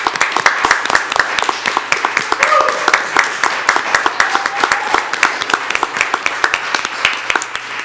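Applause at a Pacifica city council meeting: a room of people clapping steadily for several seconds, sharp overlapping claps at an even loudness, with faint talk underneath.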